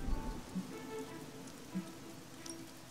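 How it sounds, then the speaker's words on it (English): Rain falls in the Marvel's Midnight Suns video game, a soft, steady patter of drops with a few low tones under it and no talk. "Hanging out in the rain? This is rain."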